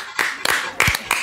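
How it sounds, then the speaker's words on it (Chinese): A few quick hand claps from a livestream host, about four sharp bursts close to the microphone in just over a second. "掌声鼓励！"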